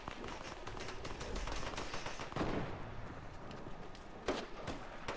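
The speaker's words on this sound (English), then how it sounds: "There's mad shots getting fired" Rapid gunfire rattles through an arena video game match, a dense stream of shots with sharper cracks standing out near the middle and end, close and continuous with no talk.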